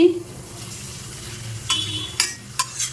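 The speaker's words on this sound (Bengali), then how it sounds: "তেল গরম হয়ে গেছে পাঁপড় দিয়ে দিচ্ছি" Papad frying in hot oil, a soft sizzle under a few sharp clinks and scrapes of a utensil stirring in the pan.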